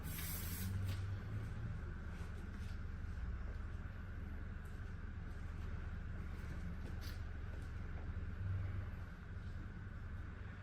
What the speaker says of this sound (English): bring it through the hair and spray at the same time